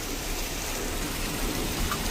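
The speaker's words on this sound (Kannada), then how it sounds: "ಮಳೆ ಬಿಡ್ತಾನೇ ಇಲ್ಲ" Steady rain pours down in a continuous even hiss, with no voices or other sounds.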